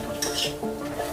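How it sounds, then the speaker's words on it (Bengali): Moong dal stirred in a pan as it dry-fries, a close, soft sizzle with light scraping strokes against the pan, alone without talk. "সেই মুগ ডালটাকে আমি একটু ভেজে নেব।"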